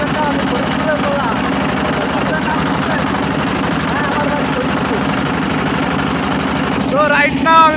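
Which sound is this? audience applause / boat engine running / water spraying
boat engine running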